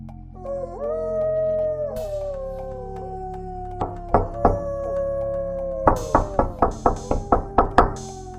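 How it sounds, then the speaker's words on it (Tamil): Knocking on a house door in a spooky story scene: a long, eerie howl comes first, then scattered hollow knocks build into a rapid run of loud raps at the end. "வீட்டின் கதவிலிருந்து ஒரு திடீர் சவுண்டு கேட்கிறது யாரோ கதவை தட்டுற மாதிரி"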